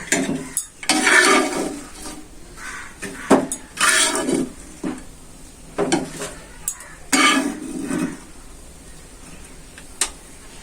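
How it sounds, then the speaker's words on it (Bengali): Fried fish roe is lifted out of a pan. Bursts of scraping and clinking from a metal utensil against the pan come in separate strokes over a soft sizzle. "মাছের ডিমগুলো ভাজা হয়েছে, এখন তুলে নিচ্ছি"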